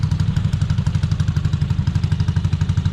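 A Honda Aerox scooter engine idles while warming up, a steady, close, rhythmic low putter with even pulses throughout and no talk over it.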